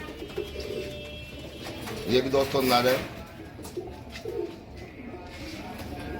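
Amritsari pigeons, a big-sized male among them, coo in a low rolling burst near the middle, with someone talking over and around the calls.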